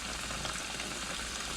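Pork tenderloins fry in a skillet with a dense, even sizzling hiss, close and steady, with no talk.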